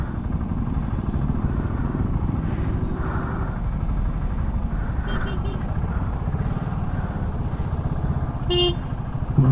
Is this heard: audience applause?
no